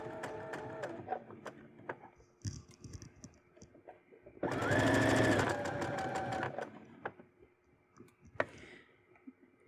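A sewing machine runs slowly, stitching a bustier right along the edge of the knit fabric, with a loud steady burst of stitching in the middle framed by scattered clicks and handling noises before and after.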